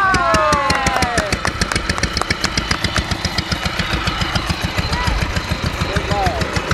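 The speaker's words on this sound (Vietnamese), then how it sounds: "sau một hồi quay thì máy cũng đã nổ rồi nha mọi người" A water pump's engine has caught after cranking and runs with a loud, rapid, even chugging pulse close by, while voices are heard over it at the start.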